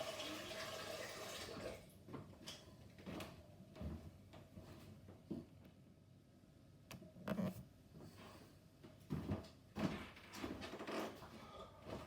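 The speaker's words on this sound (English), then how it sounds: "going to wash this bowl up now while I'm waiting" Kitchen sink washing-up of a bowl under running water, with faint splashing, clinks and knocks scattered across a quiet background at close range.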